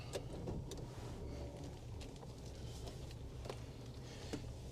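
A 2003 Jeep Wrangler drives along, its low steady engine and road rumble heard from inside the cabin, quiet and even, with a few faint rattles and clicks and no talk.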